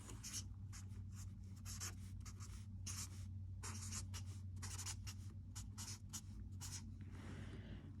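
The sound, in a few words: writing on a board or paper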